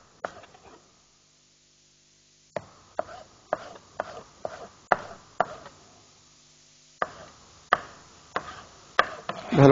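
A knife slicing food into strips on a cutting board in a TV morning-show cooking segment: a short scrape, a pause, then a steady series of crisp, close chops spaced about half a second apart.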